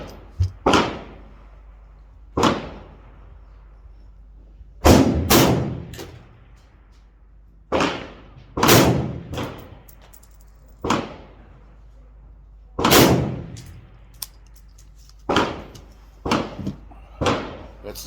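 Rifle shots from an AR-15 style M4 clone being sighted in after a front sight base repair: sharp, loud single reports at irregular intervals, some in quick pairs, each with a short decaying tail, no talking.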